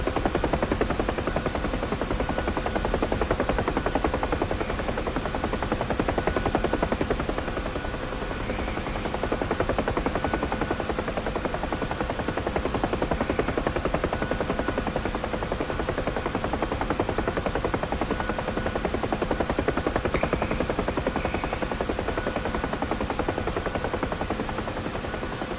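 A UH-1H Huey helicopter in the DCS flight simulator flies low over Dubai, with a steady, loud rotor thump and turbine whine that runs continuously without pause and with no voices.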